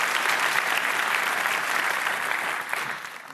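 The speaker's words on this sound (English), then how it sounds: "One more big round of applause for our sponsors for bringing us here today." Conference audience giving sponsors a big round of applause, dense continuous clapping from a large crowd, steady and loud throughout.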